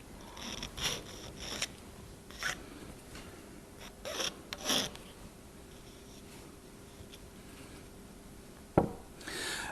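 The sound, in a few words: filing the copper outer conductor of an RF connector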